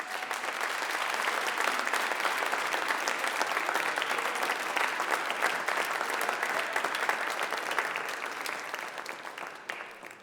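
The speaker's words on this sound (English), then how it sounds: "give them a massive round of applause and thank them" Sustained, loud applause from a large graduation audience clapping for families and supporters, a dense unbroken wash of hands that carries on for about ten seconds before tapering slightly at the end.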